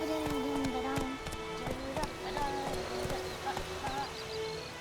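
Horse hooves clip-clop in The Witcher 3: Wild Hunt on Xbox One, a steady, fairly close trotting rhythm of hoofbeats running under continuous game music and ambience.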